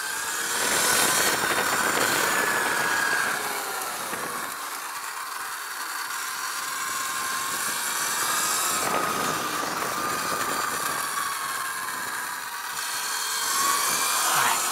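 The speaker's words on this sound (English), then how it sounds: "Big bikes coming up behind us." Big motorcycles come up from behind on a race track during a track day, a steady engine drone rising and falling in pitch with a high whine over it, continuous for the whole stretch.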